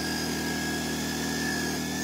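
An inverter generator running under load at a construction site, powering two chargers and a drill, gives a steady, fairly quiet engine hum with a constant high whine. It runs alone and unbroken throughout.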